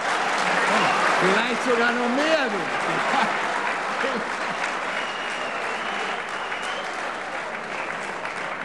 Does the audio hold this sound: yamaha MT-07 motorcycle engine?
no